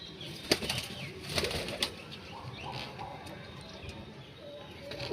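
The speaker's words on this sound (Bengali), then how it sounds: "চলো পায়রাগুলোকে রেখে দিই প্রচুর ছটপট করছে" Lakka pigeons flutter and flap restlessly at close range, giving sharp bursts of wing beats in the first two seconds, then softer rustling with faint cooing in the background and no talk.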